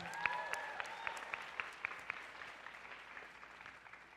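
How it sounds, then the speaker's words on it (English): Audience at a championship event claps for the advisors, a faint, sparse round of applause with a few distinct sharp claps standing out, fading toward the end. "let's give another round of applause for our advisors"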